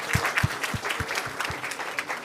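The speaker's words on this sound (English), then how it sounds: "give her a huge round of applause" Audience applause at an International Women's Day 2024 event, a short burst of crowd clapping with a few louder distinct claps standing out near the front.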